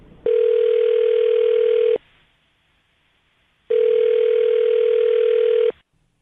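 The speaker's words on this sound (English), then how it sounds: "I'll dial her phone number right now, see if we can get her on the phone" Two long, steady electronic telephone rings, loud and close, separated by a pause of silence.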